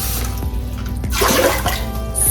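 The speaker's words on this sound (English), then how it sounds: "Because I'm doing 3 cups of rice, I'm gonna do 6 cups of water." Water pours into a cooking pot on a stove for a batch of rice, a steady splashing rush that swells loudly midway and runs on close by with no talk.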